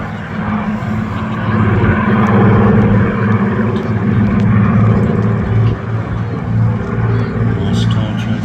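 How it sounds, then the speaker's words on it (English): Spitfire aircraft flying a tail chase at the Midlands Air Festival air display, their propeller engines droning loudly with a swelling and fading roar, a commentator talking over them. "Nice tire chase here by the Spitfires"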